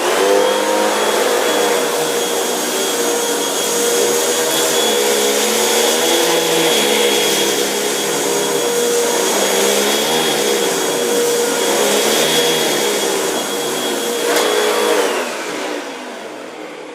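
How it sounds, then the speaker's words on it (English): A Hoover Wind Tunnel Rewind vacuum cleaner runs steadily and loudly up close, a constant whining motor roar with slight fluctuations that dies down at the end. "Time for the Hoover wind tunnel rewind."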